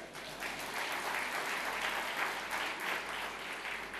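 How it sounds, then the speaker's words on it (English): Conference audience at TiECON Chennai 2014 applauding after a talk, a steady, dense patter of many hands clapping for four seconds, moderately distant and with no talk over it. "Ladies and gentlemen, a round of applause for Ramesh."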